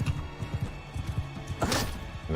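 Galloping horse hooves in the medieval combat game Mount & Blade II: Bannerlord, a rapid run of low thuds over a busy battle soundscape, with a louder crash near the end as the horse is struck.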